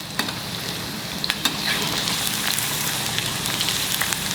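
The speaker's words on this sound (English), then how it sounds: "Keep on stirring it. You know why? Because this vegetable is very slimy. That's why it's always good to fry it in oil." Sliced okra frying in hot oil while being stirred, a steady close sizzle with occasional scraping clicks of the spoon against the pan, no voices.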